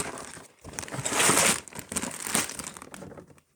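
Packaging from a Lego Mario expansion set box crinkles and crunches as it is pulled open, in several loud bursts of rustling close by with no talking.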